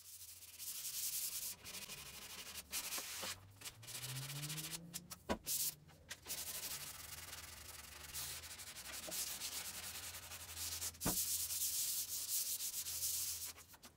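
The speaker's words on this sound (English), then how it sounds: "now I'm giving all the drawers a scuff sand with 220 grit sandpaper." Wooden armoire drawers being scuff sanded by hand with 220 grit sandpaper, a steady close rasping rub that runs continuously with brief pauses and a few sharp knocks.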